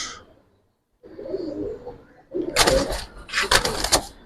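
Giribaz pigeons cooing in a loft, a few low soft coos followed by louder bursts of bird calls and fluttering, close by, with faint voices nearby.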